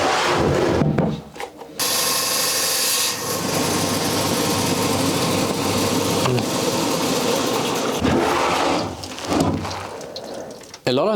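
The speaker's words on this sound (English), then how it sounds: "I will put it in the vise like this and cut it once around this axle." Rock saw cutting an XL Alimajo agate nodule from Malawi clamped in a vise, a steady high grinding whine with rasping texture that starts abruptly and runs continuously, with brief interruptions and shifts near the end.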